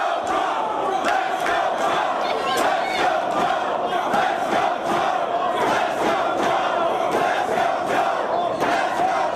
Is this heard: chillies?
no